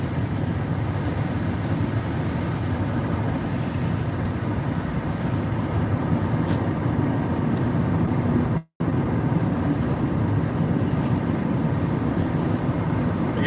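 Strong windstorm gusts buffeting a car driving with the wind near Rockaway, Oregon, a loud steady roar of wind and road rumble with one brief dropout, no talking.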